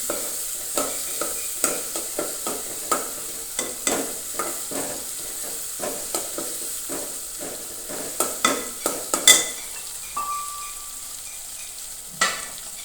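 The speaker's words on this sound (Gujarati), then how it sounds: "ટમેટાને પણ બરાબર આપણે ચડાવી લઈશું" Tomatoes and chillies cooking in oil in a pan, stirred with repeated scraping strokes at an uneven rhythm over a soft, steady sizzle, close and fairly quiet with no talking.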